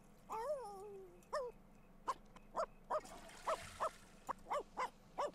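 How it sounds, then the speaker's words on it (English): A puppy in The Sims 4 barks repeatedly in short, evenly spaced yaps, opening with a few whiny, drawn-out yelps over a low steady hum. "stop barking"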